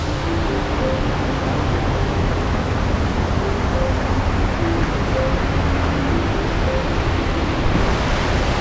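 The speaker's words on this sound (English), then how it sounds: "That's the prettiest waterfalls I've ever seen in my life." Panther Creek Falls in Oregon roars as a loud, unbroken wash of falling water that stays even and dense throughout, with no voices.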